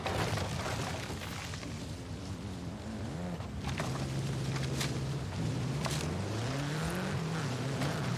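An old Porsche in a racing video game passes by, its engine note rising and sweeping in pitch over a steady drone of the player's own car, moderately loud with no talk.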